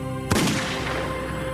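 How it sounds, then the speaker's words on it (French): A single rifle shot fired at close range, a sharp loud crack followed by a rumbling reverberant decay that lingers to the end. "elle tire."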